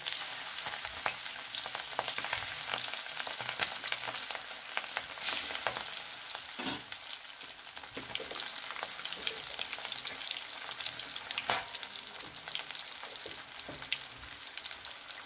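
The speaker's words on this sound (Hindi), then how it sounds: "ये मछली के पीस ऐड किए हैं और हम इनको अच्छे से भूनेंगे।" Fish pieces fry in boiling oil for a fish curry, a steady close crackle and spatter with scattered sharper pops running throughout, with no speech.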